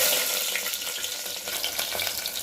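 Onions and green chillies sizzle loudly in hot oil for a chicken fry, a close, steady hiss and crackle with light stirring.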